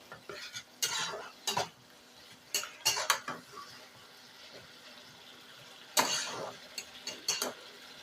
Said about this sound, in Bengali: দিয়ে আবারও মশলাটাকে ভালো করে নেড়ে চেড়ে কষিয়ে নেব